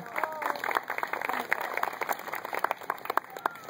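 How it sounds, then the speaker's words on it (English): Audience applause at the Collinsville Horseradish Pageant as contestants are called up, a steady patter of many hands clapping across the whole stretch with a voice speaking faintly underneath. "Big round of applause, everybody."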